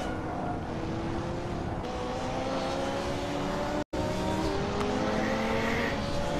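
A loud car engine in a Hot Wheels video game race, a sustained whining roar with rising and shifting pitch, briefly cut out in the middle and then resuming.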